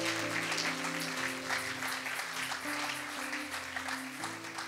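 Church congregation applauding the Lord during a sermon, steady sustained clapping from many hands over a low musical backing.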